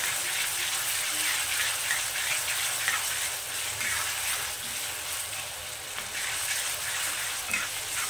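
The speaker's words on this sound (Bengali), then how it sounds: "তো এটাকেও এরকমভাবে একই প্রসেসে আমি এটাকে ভেজে নেব" Thinly cut potatoes frying crisp in hot oil over high heat, a steady bright sizzle with faint stirring scrapes and rattles running throughout, close and continuous.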